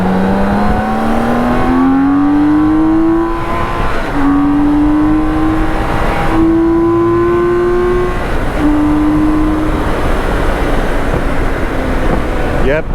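A BMW K1600 GTL six-cylinder motorcycle on Michelin Road Pilot 6 GT tyres accelerates hard, its engine note climbing steadily through each gear before short dips at about five upshifts. Loud and close, it is recorded from the rider's position, with wind noise underneath.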